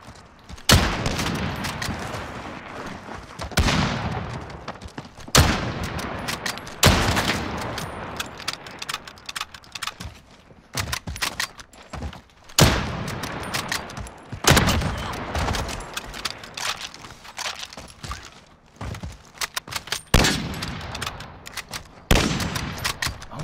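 Video game gunfire, rapid automatic bursts and heavy booming shots repeating almost continuously, loud and close, with brief gaps between volleys.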